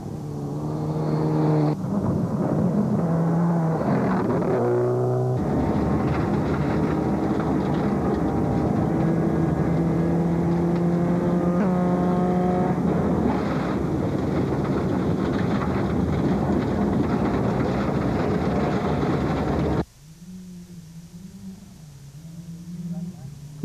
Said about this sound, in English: Let's compare the lines and styles of Reuter in the Team Total Lancer Evo and the Pertec Subaru of Du Plessis on the same stretch of road.